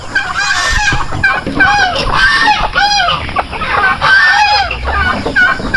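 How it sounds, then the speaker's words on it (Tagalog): Male turkeys gobbling and calling among other free-range farm fowl, repeated loud warbling calls overlapping one another close by, with honking geese mixed in. "Ayan, mga pabo natin."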